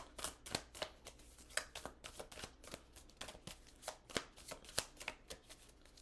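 Tarot cards shuffled by hand, a steady run of crisp riffling snaps and soft slaps repeating close to the listener, with no talking over them.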